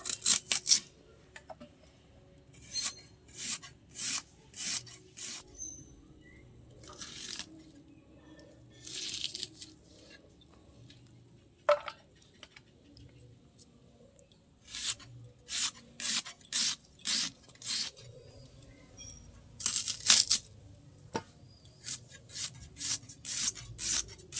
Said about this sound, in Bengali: 600 গ্রাম মাংসের জন্য 3টে পেঁয়াজ ছাড়িয়ে নিয়েছি। এবার ছোট ছোট করে কেটে নেব।